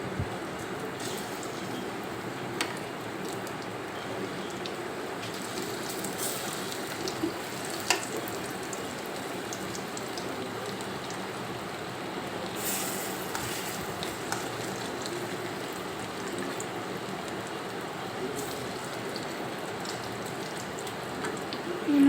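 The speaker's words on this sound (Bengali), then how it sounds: "অল্প কিছু চিকেন দিয়ে নেড়ে চেড়ে ভেজে নেব।" Chicken pieces fry in oil for chilli chicken on medium heat, a soft, steady crackling sizzle running throughout with occasional small pops and clinks, fairly quiet and continuous.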